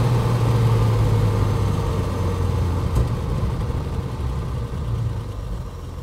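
A 1968 Mercedes 280SEL with a four-speed idles steadily, its engine giving an even, low, smooth hum that holds at a constant level without revving.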